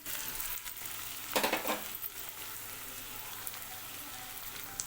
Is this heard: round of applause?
no